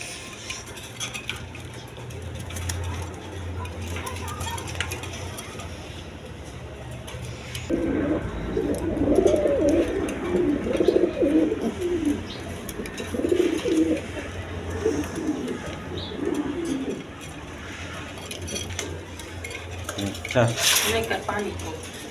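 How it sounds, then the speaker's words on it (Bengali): Thick-beaked pigeons kept for sale with their eggs and chicks coo steadily in low, throaty bursts, close by, with a clutter of background noise and occasional clinks around them. "একদম কোয়ালিটি সম্পন্ন কবুতর"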